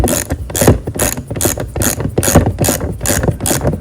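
A hand ratchet clicks rapidly and evenly, close and loud, as it tightens a fastener during a rear installation. The pawl makes repeated bursts of sharp ticks with no talking.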